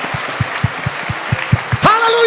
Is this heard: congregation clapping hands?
yes